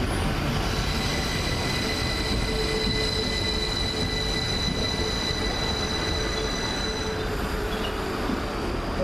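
A train rolls through a station in Leeds with steady loud rumbling and high squealing from the wheels on the rails throughout. No one speaks.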